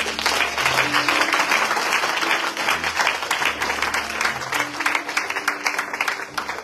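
A church congregation applauds and acclaims the Lord, sustained loud clapping from a crowd filling the room with a few voices cheering over it.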